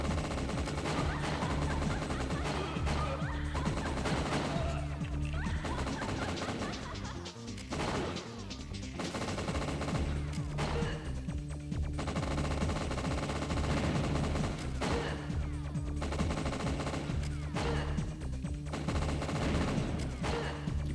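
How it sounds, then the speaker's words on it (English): Gunfire in the N64 video game WinBack: repeated shots and rapid bursts fire throughout, loud and close, over a steady droning game background. "That's not who I wanted to shoot at."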